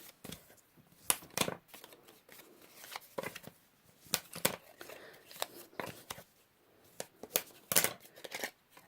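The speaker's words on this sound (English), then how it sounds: "you'll just take your bone folder and fold up your folds" Scored paper for a tag punch treat holder is creased and folded with a bone folder, a close series of crisp papery swipes, rustles and sharp snaps in irregular bursts, with no talking.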